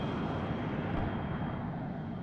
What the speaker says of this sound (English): this plane just doesn't drop its bombs on my stack of tanks